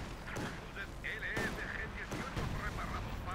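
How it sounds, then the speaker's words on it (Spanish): Machine gun fire in the World War II strategy game Company of Heroes 2, a rapid crackling burst mixed with other battle noise and explosions, steady and dense throughout, with a voice talking over it. "Yo aquí pongo la ametralladora para que se defienda"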